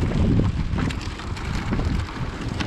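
Strong wind blows across the microphone on Orange Beach during fishing, a loud continuous buffeting roar with gusty swells and no letup.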